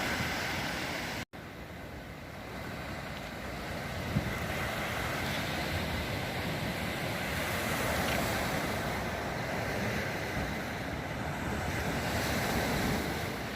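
Winter sea waves wash onto the seaweed-strewn shore at Cala Granadella on the Alicante coast, a steady close roar of surf with wind buffeting the microphone throughout.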